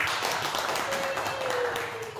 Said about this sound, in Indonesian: Terima kasih tepuk tangan Bapak Andi.